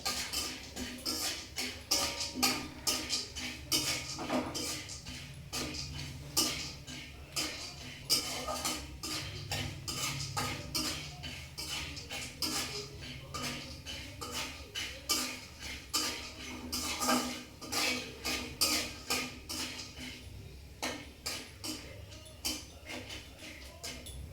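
Corn kernels stirred with a utensil in a pot while making popcorn: a continuous run of quick metallic scrapes and clinks against the pan, close and fairly quiet, in an uneven rhythm.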